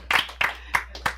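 Audience applause at an investor class, a handful of sharp, separate claps spaced out in a brief, thin burst, close by and fairly quiet, with no talk over it.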